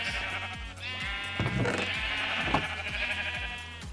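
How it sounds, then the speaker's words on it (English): Several Minecraft sheep on a sheep farm bleat in quick succession, overlapping wavering calls over a low repeating background rhythm, with a game-like synthetic quality. "The sheep farm itself is actually over here."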